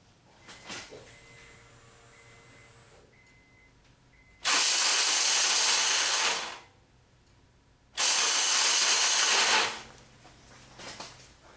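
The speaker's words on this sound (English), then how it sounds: "the starter is not engaging the flywheel" A 2004 Honda Accord with a 2.4L engine and a failing starter that will not engage the flywheel makes two loud bursts of harsh whirring, each about two seconds long and separated by quiet, with faint clicks around them.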